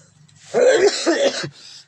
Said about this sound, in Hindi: सॉरी दोस्तों, खांसी आ रही है मुझे